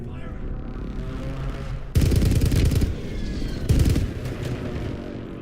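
Gunfire in the battle royale game Warzone: two loud, dense bursts of rapid automatic shots, each lasting about a second, rising over a steady background of game ambience.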